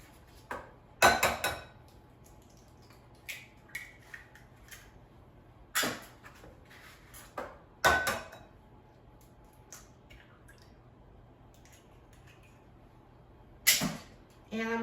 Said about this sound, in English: So now I'm going to crack 2 eggs in a bowl.